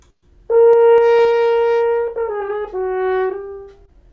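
A brass instrument plays a short sustained phrase, a long held note stepping down to a few lower notes, clear and close with no talking.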